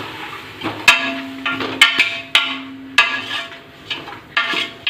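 Mutton being stirred in a pot with ginger-garlic paste and coriander gives a run of sharp metal clinks and scrapes. A spoon knocks against the pot in irregular strokes, close and fairly loud, with no talking.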